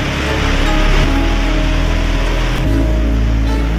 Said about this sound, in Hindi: देखिए खुदा की कुदरत, पहाड़ों में कई जगह से आबशार।